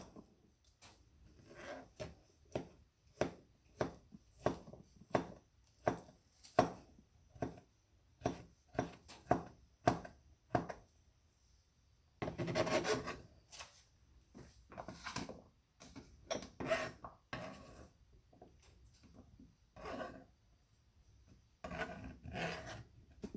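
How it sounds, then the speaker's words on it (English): Peeled avocados chopped and mashed for guacamole make a run of rhythmic, evenly spaced knife and masher knocks, close and distinct, then a short stretch of denser scraping and a few more strokes. "I'm just gonna go ahead and chop them up and mash it up"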